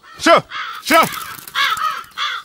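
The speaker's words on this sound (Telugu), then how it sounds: "కాకులు" Crows caw four times in a row, loud, close and harsh, with short gaps between the calls.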